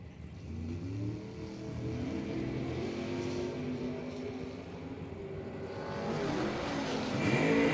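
Drag race launch of a 1967 Camaro against a 1956 Bel Air: engines roar steadily and build louder toward the end, heard from trackside at some distance.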